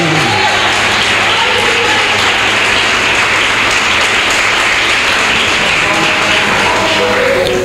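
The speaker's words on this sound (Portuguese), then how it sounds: "Eu te convido agora a aplaudir Jesus nesse momento" Church congregation at a revival seminar applauding loudly and continuously, a thick, sustained roar of clapping from a large crowd filling the whole stretch.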